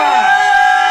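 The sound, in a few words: congregation shouting cries of joy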